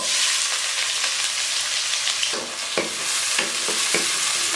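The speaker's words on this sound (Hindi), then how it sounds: "अब मैं इसको फ्राई करूँगी।" Two large, finely chopped onions fry in hot oil for a chicken salan gravy, giving a steady, loud, hissing sizzle, with a few clattering stirs of a spoon in the pan during the last couple of seconds.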